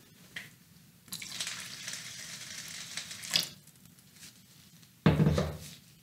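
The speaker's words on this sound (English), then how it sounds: "When you're adding the water, be sure and add just a little bit at a time." Water is poured a little at a time onto dry sand for mixing, short splashing and hissing pours separated by quiet pauses, with a heavier gush near the end.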